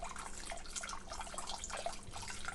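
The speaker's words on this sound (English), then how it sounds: "Hunter, can you slowly pour the milk in?" Dairy milk poured slowly into a pot for cocoa, a steady soft liquid trickle and splash that runs on without pause, fairly quiet and close.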